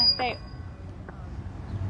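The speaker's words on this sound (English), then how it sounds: "There's the church bells. that's 6 o'clock." Church bells ring out at six o'clock outside a protest at an execution; a single faint, distant bell strike comes early, with a weaker one about a second later over low background rumble.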